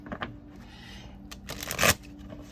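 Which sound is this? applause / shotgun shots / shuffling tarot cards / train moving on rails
shuffling tarot cards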